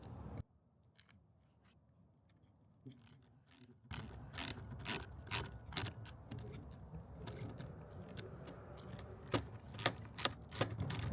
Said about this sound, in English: now all you have to do is align the holes and put the Allen screws back on